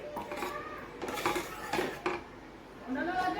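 Dal being stirred into oil-coated spices in a metal pan for dal fry tadka, a few quick scraping clinks of a spoon against the pan, fairly quiet and close, with gaps between strokes.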